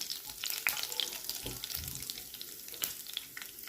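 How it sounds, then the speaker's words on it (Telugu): Cumin seeds fry in ghee in a pan, a soft, close, continuous sizzle with light crackles and a few small stirring knocks, with no voices. "ఇప్పుడు అందులో జీలకర్ర వేసుకొని కొంచెం వేయించుకోవాలి"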